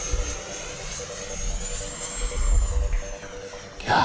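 A Horizon Hobby F-16 RC electric ducted-fan jet flies past overhead. Its steady whining roar rises and falls slightly as it passes, with a sharp burst at the end.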